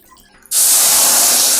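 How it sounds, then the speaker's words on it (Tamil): Water poured from a vessel into a cooking pan for semolina, a sudden loud gushing splash that starts abruptly and continues steadily. "இப்போ இதில் தண்ணி விடலாம்"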